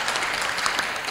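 An audience at a homelessness panel in downtown Toronto breaks into applause, a dense, even wash of many hands clapping loudly and continuously for a short burst.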